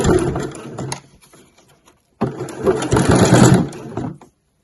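A sewing machine stitching along the binding edge of a mesh laundry bag, loud and close, running in a short burst, stopping for about a second, then starting again in a longer, steady whir.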